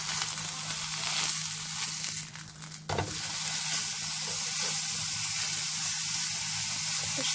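A kefta and egg burger frying in oil in a pan gives a steady close sizzle throughout, with a brief disturbance partway through as the patty is moved.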